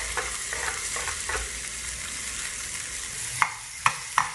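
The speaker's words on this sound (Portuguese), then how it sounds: "Aqui eu vou colocar um fiozinho de azeite. E vou colocar a minha cebola." Chopped onion sizzles in olive oil in a hot pan, a loud steady frying hiss with a few sharp taps of a utensil against the pan near the end.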